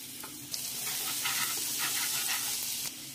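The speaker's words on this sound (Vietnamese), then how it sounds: "Cho tỏi vô mình phi." Garlic frying in pork fat in a pan, a steady close sizzle with faint stirring scrapes running throughout.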